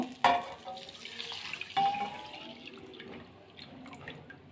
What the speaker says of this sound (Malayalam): ബട്ടർ ഒന്ന് മെൽറ്റായി വരുമ്പോഴത്തേക്ക് നമ്മൾ പാൽ ഒഴിച്ചു കൊടുക്കുന്നു